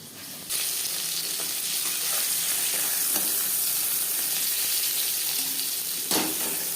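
A batch of bata fish frying in hot oil produces a loud, close, unbroken sizzle that starts abruptly and holds steady to the end, with a few faint clinks and no speech.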